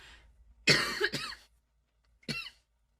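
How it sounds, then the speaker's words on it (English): A burst of harsh coughing, two or three rough coughs close together, then a single short cough after a brief silence; close and alone. "I apologize for the cough."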